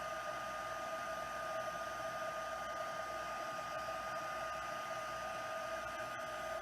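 A heat embossing tool blows hot air in a steady, even whir that holds at the same level throughout with no breaks.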